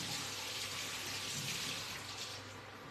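Courgettes rinsed under a running kitchen tap, a steady, close hiss of flowing water that holds evenly, then eases slightly toward the end, with no voices.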